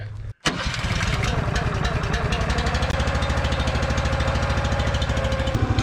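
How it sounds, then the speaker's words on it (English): An engine-driven log splitter runs loudly and close by, a steady chugging mechanical drone with a rapid pulsing beat that starts up after a brief silence near the start and continues throughout. "let him run this log splitter"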